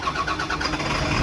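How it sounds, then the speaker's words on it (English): A truck's engine cranks and catches during a Class A air brake test, a loud broadband rumble settling into a steady running roar, heard up close without talk. "Start your truck back up."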